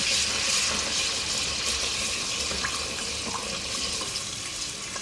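A tablespoon of ginger garlic paste fries in hot oil left from frying onions, a close, steady hissing sizzle with a few small pops, heard alone.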